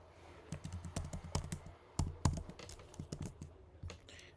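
Fingers typing a username on a computer keyboard: a quick, uneven run of close, crisp key clicks with brief pauses, one or two louder strokes standing out, no talking.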